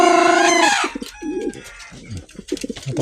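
Pigeons and chickens at feeding time: one loud drawn-out call opens, followed by scattered close coos, clucks and pecking sounds with no talking.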